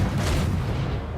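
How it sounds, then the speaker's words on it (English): Heavy naval guns of a Shimakaze-class destroyer firing high explosive shells in World of Warships, a dense low rumbling boom that swells and lingers for about a second at steady loudness. "we'll keep the high explosive barrage up in a moment"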